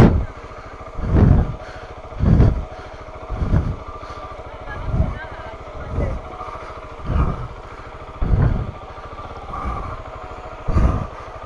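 A motorcycle descending the Transpirenaica route near Espolla, its engine drone steady under strong buffeting wind noise that swells in regular bursts throughout.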